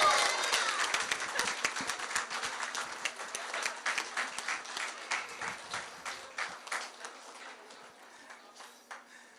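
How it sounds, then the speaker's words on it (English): Applause fills a primary election night celebration, a crowd clapping loudly at first, then thinning into individual claps that fade out. "A round of applause and a celebration for you tonight."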